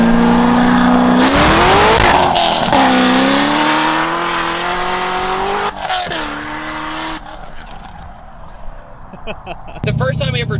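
An 890 hp Chevrolet Corvette ZR1 accelerates hard, its loud engine note climbing through several gears with sharp shifts between them, then backing off before roaring again near the end.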